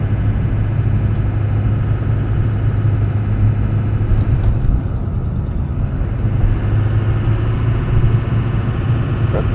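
Straight-piped, uncatalyzed and unmuffled exhaust of a big blue GMC pickup truck, a loud, deep, continuous engine drone with a steady low rumble heard from inside the cab.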